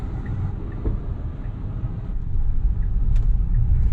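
A Tesla car on a new tire accelerates hard, its low road rumble and cabin drone swelling louder about halfway through, with no talking.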